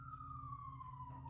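An emergency vehicle siren sounds as a single steady, slowly falling wail, faint and distant against a low rumble of background noise.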